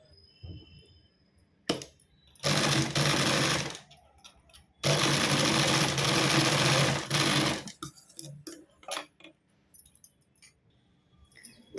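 An electric sewing machine stitches a folded blouse latkan in two loud, steady bursts of rapid whirring, each a few seconds long, with short clicks and handling noises in the quiet gaps between them.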